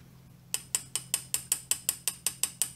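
A brief quiet pause, then a steady series of sharp, bright metallic taps on a mini lathe part, about five per second, ringing close and clear.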